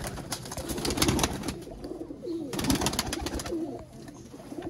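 Pigeons coo in a loft of young Sialkoti breeder birds, soft repeated cooing phrases over a busy background of other birds and rustling.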